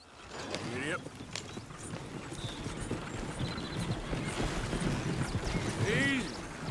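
Horse hooves clip-clop at a gallop in Red Dead Redemption 2, with a rhythmic beat broken by a couple of whinnies and muffled voices beneath.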